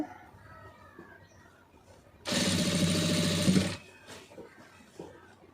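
An electric sewing machine stitches blue cloth in a single steady run of rapid needle chatter lasting over a second, loud against a quiet room with faint background sounds before and after.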